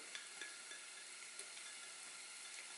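Onions cook in oil in a pan over low-medium heat, making a soft, even sizzle that stays faint and steady from start to finish, with a few tiny crackles poking through.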